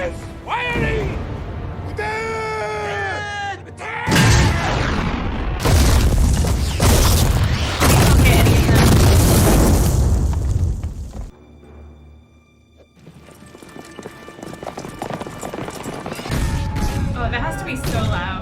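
Loud cannon fire from the battle scenes of The Last Samurai, several heavy booms and sustained rumbling volleys in a dense battle soundscape, with people talking over it.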